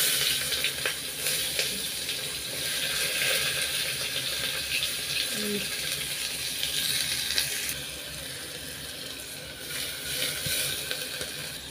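Onion frying in oil with whole garam masala for keema pav makes a dense continuous sizzle and hiss, loud and close throughout, with faint clinks underneath.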